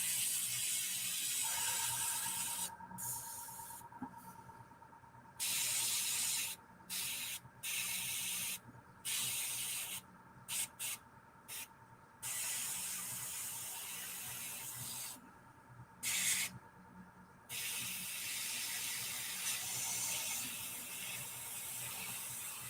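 An airbrush sprays flesh-tone base paint onto a figure. Its close, steady hiss is broken by a series of short, irregular pauses.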